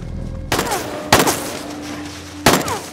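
Three sharp gunshots from a pistol ring out in a film shootout, spaced unevenly with a short ringing tail after each crack and a low hum underneath.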